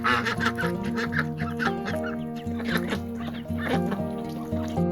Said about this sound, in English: but it's actually one of my Muscovy ducks